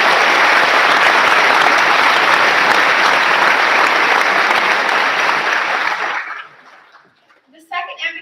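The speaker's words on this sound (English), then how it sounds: "Can we get a round of applause for our program?" An audience at an eighth grade school promotion ceremony applauds in a loud, dense burst of clapping for about six seconds, then it fades away and a few faint sounds follow.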